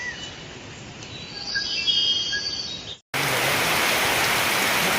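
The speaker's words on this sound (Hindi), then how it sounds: "पानी गिरत है संगवारी हो" Rain falls at a cow shelter, a soft, even hiss with faint chirps in the first few seconds, then after a brief cut a louder, fuller downpour that continues steadily with no talking.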